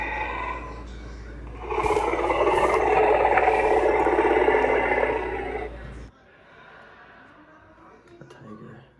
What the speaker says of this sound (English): Actually, that's a walrus.